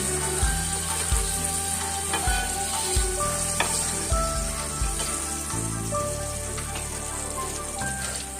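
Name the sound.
fish frying in oil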